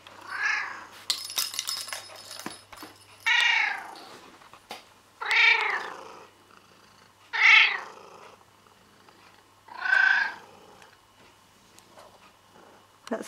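A pet cat named Fossil meows five times at regular intervals, close and clear, with soft rustling and handling noises in the quiet gaps between the calls.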